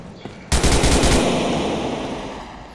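A rapid automatic burst of gunfire from a weapon in Grand Theft Auto IV, loud and close, rattling for about a second before trailing into a long fading echo.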